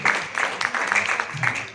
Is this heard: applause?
yes